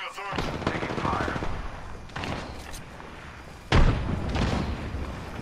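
Automatic weapon fire in a battle royale game: long, rapid bursts of loud shots, broken by a short pause and then a heavy, close thump before the firing resumes.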